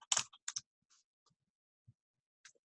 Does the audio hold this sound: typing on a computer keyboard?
yes